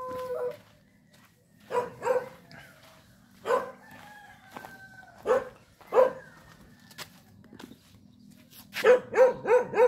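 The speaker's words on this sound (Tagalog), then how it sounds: "Tapang ng aso" Dog barking in short bursts, a few single barks spread out, then a quick run of barks at the end, with a rooster crowing in the background in a rural village setting.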